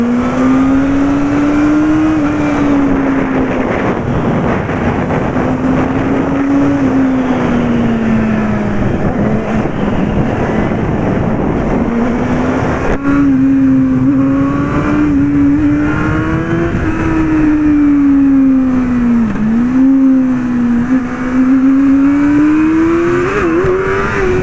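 A sports bike with a roughly 600cc-feel engine is held in one gear and accelerated hard. It gives a loud, continuous engine roar whose pitch rises and dips as the rider pulls through the revs, with steady wind noise throughout.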